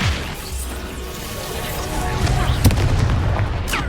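A Bombarda explosion spell in the Hogwarts Legacy video game lands as a loud, booming blast with crashing impacts layered over rumbling combat noise, close and dense across the whole stretch.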